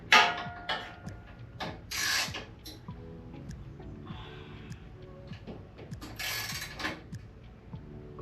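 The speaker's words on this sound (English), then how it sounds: "there's a bolt back here. Let's see. Oh, I just luckily have the wrench I needed" A wrench turns a bolt, sounding as a series of close metallic ratcheting clicks and rubbing scrapes spread unevenly over several seconds.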